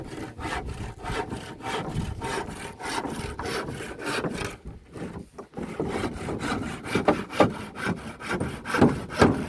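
Steady back-and-forth sawing through wood during house building, rhythmic rasping strokes close by, with a brief pause midway before the strokes resume.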